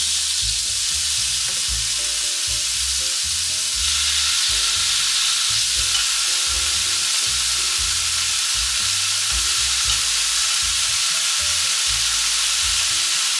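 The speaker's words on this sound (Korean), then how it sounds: "먼저 달궈진 팬에 소리만 들어도 맛있는 삼겹살을 노릇노릇하게 구워줄게요" Pork belly sizzles steadily in a hot frying pan, a constant loud crackle and hiss with occasional low bumps from the pan being moved.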